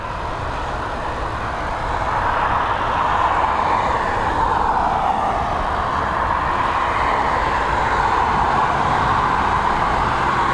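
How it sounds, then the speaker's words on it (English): A Ryanair-operated Learjet 45 at Dublin Airport near runway 10R produces a continuous broad jet roar that swells after the first couple of seconds and holds steady, with no talking. "Here we go, we've got this Learjet 45. It is the Ryanair operated Learjet."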